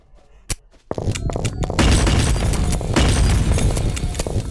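A revolver is fired in the video game Animal Company. A couple of sharp isolated shots ring out first, then a dense, sustained burst of booming gunfire follows, loud and close.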